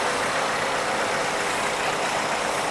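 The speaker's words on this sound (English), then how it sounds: "the tractor in original condition" An original-condition Grey Ferguson tractor towing a York-built tie trailer drives past at a steam rally. Its engine makes a steady, loud, close rumbling drone that holds even across the pass.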